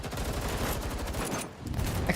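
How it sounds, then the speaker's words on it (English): Dense, rapid video game gunfire from Girls' Frontline 2: Exilium crackles continuously, overlapping bursts forming a loud fusillade with a brief dip before resuming. "The intensity of the dense gunfire pales in comparison to the cacophony all around."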